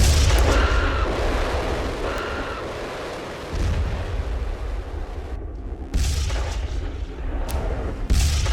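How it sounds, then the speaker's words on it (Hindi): Heavy blast from an Israeli air strike among buildings in Beirut, a loud sustained low rumble with several sharp bursts and echoing booms, no voices. "आसपास इमारतें और बीच में भीषण ब्लास्ट।"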